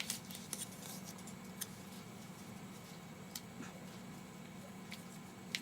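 Scissors snipping paper to shape an embellishment for a handmade thank-you card, faint and close, with a few crisp isolated cuts spread through a low background hiss.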